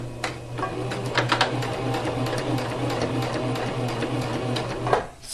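A sewing machine stitches fabric at a short stitch length with a steady mechanical whir, broken by a few sharp clicks and brief pauses before it stops near the end.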